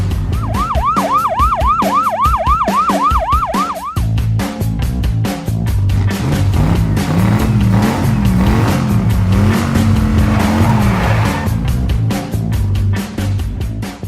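Cartoon monster truck warming up its engine before a race: a rising and falling wail over steady motor drone, then a loud continuous engine rumble with wavering pitch, no talking.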